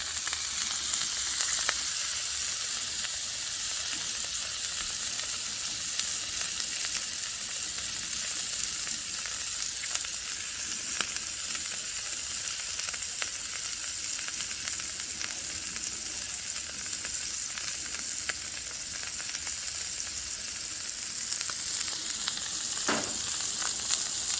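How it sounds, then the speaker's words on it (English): Steady, loud sizzling of chorizo frying on a hot griddle, a continuous crackling hiss with occasional sharper pops. "Chorizo frying up."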